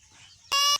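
A duck lets out a single loud, harsh call close by, breaking a quiet stretch of faint background noise.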